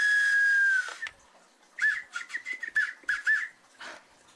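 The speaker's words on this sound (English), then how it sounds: "that's a whistle" A handheld whistle blown outdoors in the woods: one long steady shrill blast, then a run of short chirpy toots in quick uneven succession, fairly close and alone.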